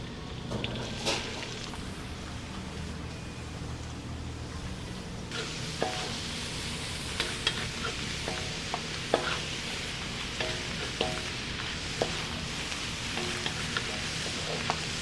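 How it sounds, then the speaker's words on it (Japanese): Takana mustard greens being stir-fried with coarse sugar, soy sauce and mirin in a restaurant kitchen: a soft continuous sizzle under repeated scraping and tapping of a utensil against the pan, fairly quiet and close. "ザラメと醤油とみりん、 高菜を炒めます。"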